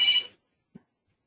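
A telephone rings once briefly during an online class, a short bright burst that cuts off, followed by a faint low thump and silence.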